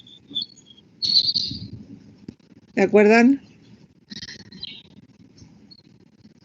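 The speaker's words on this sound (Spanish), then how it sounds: "Ese que tiene pajaritos y tiene abierto el micrófono." Pet birds chirp and tweet near an open microphone in an online biology class, bright high calls coming in short bursts around a teacher's speech and one louder sustained call in the middle.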